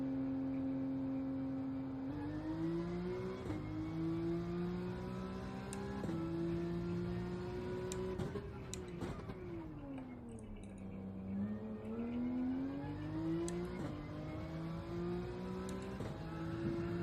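Race car engine droning steadily through a lap in an Ultimate Tourers racing game, rising in pitch with acceleration, dropping sharply at each gear change or braking point, loud and continuous throughout.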